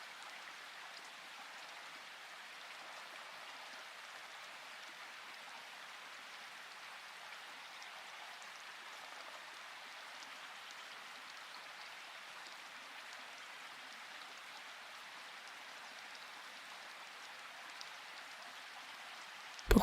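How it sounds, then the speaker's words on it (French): Rain falling on a window pane in a calm meditation ambience, a soft, steady, even patter with no other sounds. "Revenez doucement au son de la pluie"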